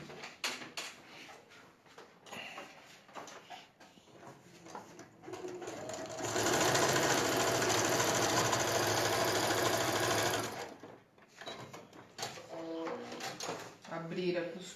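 Sewing machine stitching a patchwork block, a steady close whir running continuously for about four seconds in the middle, with someone talking before and after.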